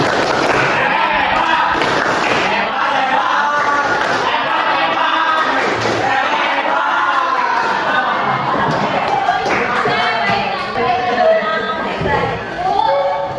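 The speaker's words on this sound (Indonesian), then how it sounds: "Kita tepuk hebat dulu. Tepuk hebat." A school class performs a rhythmic 'tepuk hebat' clapping chant, loud close group claps in patterned bursts mixed with children's voices chanting and calling out over the whole stretch.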